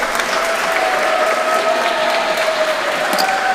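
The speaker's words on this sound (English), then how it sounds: "Please start with a round of applause" At a casino night event, an audience keeps up a loud, dense round of applause from start to finish, with no talk over it.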